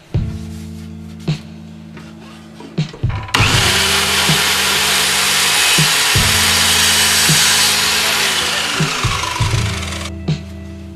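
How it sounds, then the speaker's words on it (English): An electric miter saw cuts wood frame pieces for a plywood pyrography artwork: the motor spins up, then a loud sustained whining cut lasting several seconds, with clunks of handling before and after. "I used this electric half-meter saw that I already had"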